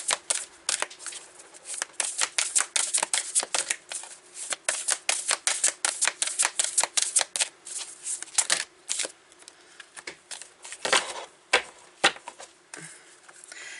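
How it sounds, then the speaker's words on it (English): Repeated rapid riffling of a deck of oversized cards, crisp fluttering bursts in an uneven rhythm, close and fairly quiet with no talking. "These are humongous cards, and that's my problem with them. They're so hard to shuffle."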